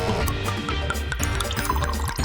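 Water pouring steadily into a bath, a continuous splashing rush with no gaps, layered under bright background music in a cartoon scene.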